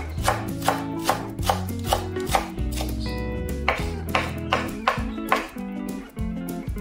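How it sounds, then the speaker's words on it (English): A knife chops green onions on a cutting board in quick, rhythmic strokes, close and crisp, with soft music playing underneath throughout. "Cut green onions."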